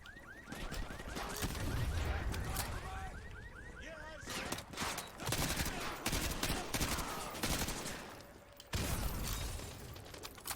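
Rapid bursts of gunfire from Call of Duty Modern Warfare 2 Remastered, with dense volleys of shots and explosive cracks over busy game combat noise, loud throughout with brief pauses between clusters.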